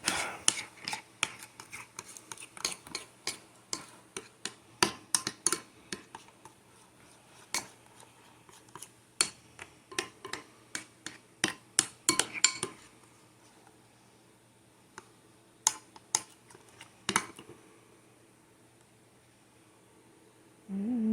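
A spoon stirs melted chocolate into sweetened condensed milk in a bowl, making quiet, irregular clinks and taps against the dish. Bursts of taps are followed by a calmer stretch near the end.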